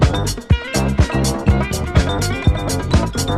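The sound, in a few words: sample from 1978 Motown Sounds record Bad Mouthing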